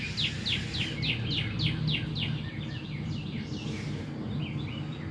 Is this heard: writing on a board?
no